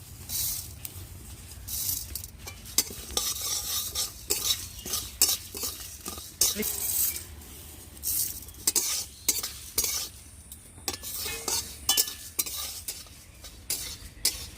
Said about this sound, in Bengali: এখন আমি দিয়ে দেব ধনে জিরে একটু হালকা ভেজে মৌরি